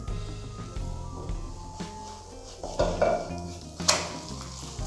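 Potato and half an egg frying on low heat in a pan for a homemade potato chicken pizza, flipped over: steady sizzle under clinks and scrapes of a utensil against the pan, with one sharp metallic knock near the end.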